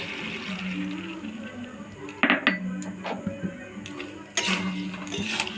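A metal spoon stirs chilli chicken in a pan, producing irregular clinks and scrapes with a couple of louder clatters over a steady low background.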